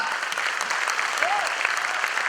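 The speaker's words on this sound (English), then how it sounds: "Let's have a round of applause for Mumbai." Sustained applause from an audience at an engineering quiz zonal final in Mumbai, a dense steady clatter of clapping with a brief whistle or cheer rising through it midway.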